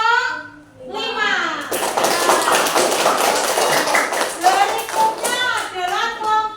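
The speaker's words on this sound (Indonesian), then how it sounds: "tepuk tangan untuk kelompok 5" Classroom group applauds after a presentation by group 5, a burst of clapping and cheering from children lasting several seconds, loud and close, with kids' voices mixed in.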